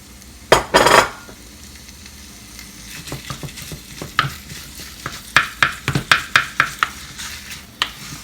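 Minced meat frying with cabbage in a pan: a loud burst of sizzle as the meat goes in, followed by a run of sharp, rhythmic scraping and clanking strikes from a utensil breaking it up.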